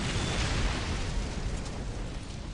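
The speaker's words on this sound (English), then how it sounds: "Combine the holy fire of the whirlwinds with the jump packs of our assault marines." Whirlwind artillery tank shells explode in Warhammer 40,000: Dawn of War, a dense rumbling wash of blasts and bursts that rolls on steadily with no clear gaps, fairly loud and continuous.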